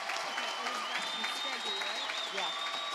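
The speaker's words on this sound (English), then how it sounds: "And a round of applause, please, for these graduates." Graduation audience applauding the graduates at a high school ceremony, steady dense clapping throughout with a faint whistle or tone running above it and some voices mixed in.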